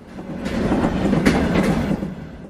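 Train running through a storm in a horror cartoon, a continuous rumbling roll with rhythmic clickety-clack of wheels, close and fairly loud with no voices.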